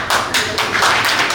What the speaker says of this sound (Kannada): ಚಪ್ಪಾಳೆ ನಿಮಗೆ.